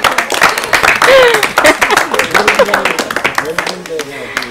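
An Urdu quiz show audience claps for a couplet, a short burst of scattered clapping mixed with a host's speaking voice and some overlapping chatter.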